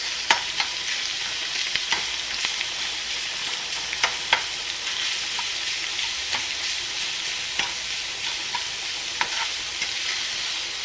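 Cabbage roll filling seasoned with salt and pepper is stirred in a pan, with repeated scraping strokes over a steady hissing background, moderately close and without talk.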